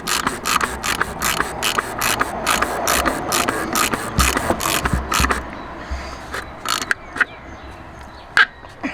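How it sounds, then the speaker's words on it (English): A ratchet clicks rapidly while tightening the oil drain plug on a BMW F30, a dense run of close metallic clicks that thins to a few scattered clicks and knocks near the end. "get your ratchet on it"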